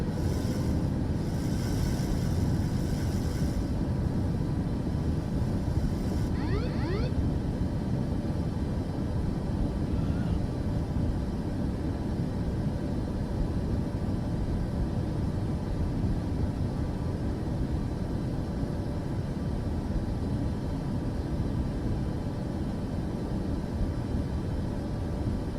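Jet airliner thrust reversers roaring after landing in Microsoft Flight Simulator 2024: a loud, steady, broadband engine rush that holds constant and fills the whole stretch, with no talking.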